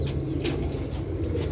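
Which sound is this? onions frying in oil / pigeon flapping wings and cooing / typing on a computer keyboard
pigeon flapping wings and cooing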